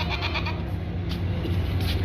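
Goats, a grown goat and two kids, bleat repeatedly close by during loading for transport in Faisalabad, a young bleating voice over steady outdoor rumble and background noise.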